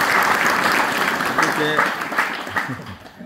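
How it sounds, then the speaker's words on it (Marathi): Applause for pakhawaj player Kishor Dond at a satsang, a dense, steady round of clapping from the gathering that fills the moment and thins out toward the end, with a little talk faintly beneath it. "एकदा पखवाद वाजक किशोर दोंडसाठी एकदा जोरात टाळ्या वाजवा"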